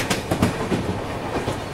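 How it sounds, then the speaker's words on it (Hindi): Coromandel Express passenger train nearing Bahanaga Bazar station, heard from on board: rhythmic clickety-clack of wheels over rail joints with a steady rumble, close and fairly loud. "अभी ट्रेन अपने बहनगा बाजार रेलवे स्टेशन पहुंचने वाली है"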